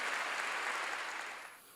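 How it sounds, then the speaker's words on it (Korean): A church congregation claps together, giving a dense, even wash of applause that holds steady and then tapers off toward the end. "박수로 하나님께 영광 돌려요."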